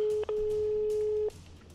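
A telephone ringback tone sounds while calling a mobile phone, a steady electronic beep with a short gap near the start, then a long sustained tone that cuts off before brief quiet line noise.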